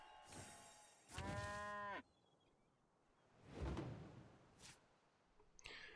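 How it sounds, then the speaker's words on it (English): A cartoonish cow moo from the War Cow card being played in the Hearthstone video game, one loud drawn-out bellow amid short game effects, with no voices. "my opponent played War Cow."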